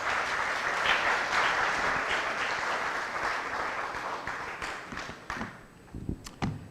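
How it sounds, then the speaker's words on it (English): A book-launch audience applauds for a bishop: a steady, dense wash of clapping that holds, then thins into scattered individual claps near the end. "Please put a round of applause for him."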